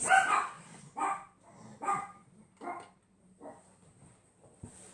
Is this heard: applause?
no